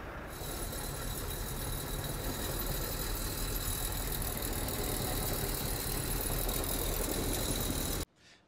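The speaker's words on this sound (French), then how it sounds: "je pourrais actionner mes moteurs" Electric motors drive the arms of a trailer tarp system with a steady, even hum and faint rattle, running continuously for about eight seconds before cutting off abruptly, with no talk over it.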